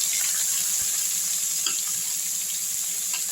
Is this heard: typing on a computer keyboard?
no